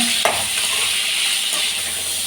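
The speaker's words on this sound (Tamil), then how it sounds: "கொஞ்சம் இது எல்லாத்தையும் சேர்த்து கொஞ்சம் நல்லா வதக்கிக்கலாங்க" Cinnamon, cloves, stone flower and chopped tomatoes sauté in hot oil in a pan for a mushroom gravy, giving a steady close sizzle with a couple of soft scraping stirs; no talking.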